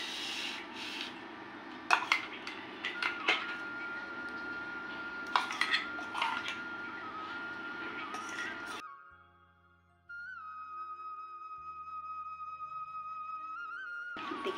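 Raw mango chutney scraped and scooped from a container into a bowl, with close rubbing and scraping strokes and a few sharp clinks over roughly nine seconds, followed by a quieter stretch with a steady tonal hum.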